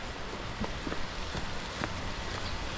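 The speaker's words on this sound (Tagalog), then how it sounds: "Dahil lumalakas na yung ulan." Rain falling in a backyard garden, a steady dense hiss of drops on surfaces with scattered louder splats, continuous and fairly close, growing heavier.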